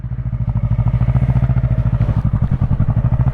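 A motorcycle engine eases off the throttle while slowing to a stop, a loud, close rhythmic low thumping idle pulsing evenly throughout without speech.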